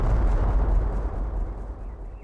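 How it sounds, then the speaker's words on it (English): A loud, low rumbling explosion from the adventure game Secret Files Tunguska, a heavy sustained roar that slowly fades over about two seconds with no speech. "That sounded like an explosion."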